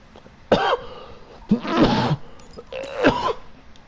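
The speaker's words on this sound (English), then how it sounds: "Who's coughing like that?" A person coughs three times in separated bursts, loud and close, with a rough throaty quality and short pauses between, heard over a faint background hum during an online gaming session.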